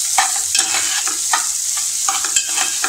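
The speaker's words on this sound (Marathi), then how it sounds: "आपल्याला मंद आचेवरच कांदा परतायचा आहे." Finely chopped onion sautéed in a pan over a low flame for a French bean bhaji: a loud, close, steady sizzle with rhythmic stirring scrapes, no talk.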